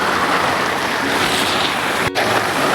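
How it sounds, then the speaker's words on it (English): Heavy rain pours at a lakeside, a dense, loud, continuous hiss heard from inside a small auto-rickshaw, with no voices. "It's pouring heavily and I just sat inside this auto."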